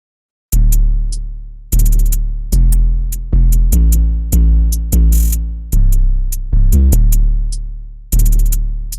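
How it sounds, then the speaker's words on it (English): A programmed beat plays alone, with crisp hi-hat ticks running over punchy drum and bass hits in a steady, loud loop of repeating bars. "And the hi-hats sound like this."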